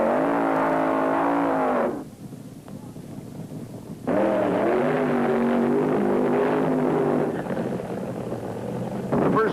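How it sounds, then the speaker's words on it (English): Funny car drag racers burning out of the staging area at a 1973 IHRA Northern Nationals drag strip, a loud sustained engine roar that drops out briefly, then returns, with a faint voice underneath. "it was time for the funny cars, and some wild ones burned out of the staging area"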